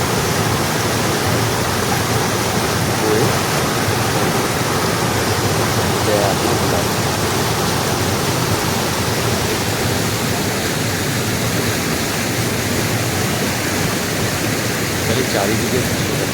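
The Ghagra waterfall at Belpahari gives off a constant, dense roar of falling water heard close, unbroken and even in loudness from start to end.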